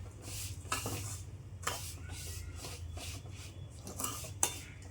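A spoon scrapes and stirs rice rava upma in a pan, with repeated soft scraping strokes and faint clinks over a low background hum, quiet and close, without speech.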